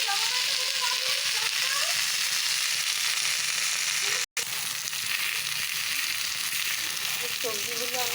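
Vegetables sautéing in a pan over high heat give a loud, dense, steady sizzle close by, with a few faint scraping stirs, broken by one brief dropout midway.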